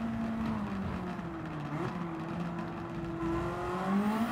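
Race car engine in Gran Turismo 7, a Lancer in a 600pp race, droning steadily at high revs with rising and falling pitch, loud and continuous throughout.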